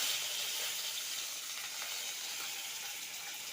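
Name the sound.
curry leaves, urad dal and fenugreek sizzling in hot oil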